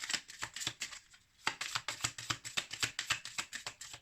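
Playing cards are shuffled and drawn during a card reading: a steady run of quick, crisp riffling flutters close by, with a brief pause before the rapid shuffling resumes.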